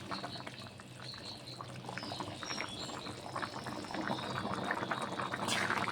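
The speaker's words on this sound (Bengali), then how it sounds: "ঝোলটি কিন্তু ফুটে গেছে" Curry gravy with chicken, chana dal and potato boils in a pot, giving a soft, continuous bubbling and popping that grows slightly busier toward the end.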